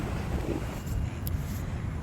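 Steady wind gusts across a lakeside in Taiwan, with a constant low rush buffeting the microphone for about two seconds and no clear voices.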